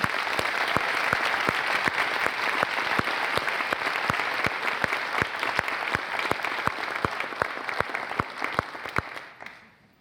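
An audience claps steadily for several seconds, a dense round of applause that thins out and fades near the end.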